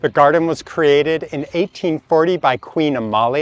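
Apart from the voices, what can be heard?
No everyday noise stands out behind the speech.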